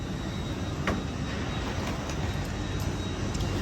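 A GWR IET train at a platform gives off a steady, loud broadband rumble and hum while passengers board coach D, with faint clicks and knocks scattered throughout.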